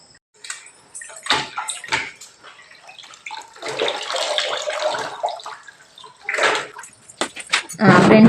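Running water while dishes are washed at home, with uneven splashing gushes that swell and fade, a loud burst near the end, and faint voices in the background.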